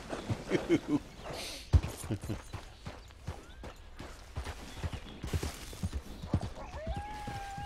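Horse hooves in Red Dead Redemption 2 clopping at an uneven gallop on hard ground, up close, with brief whinnies and someone talking in between.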